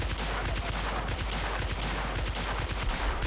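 M60 machine gun fire in Battlefield Bad Company 2, a dense, continuous rattle of rapid shots loud and close throughout, with no pauses between bursts.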